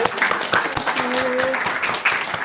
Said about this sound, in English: We'll give a round of applause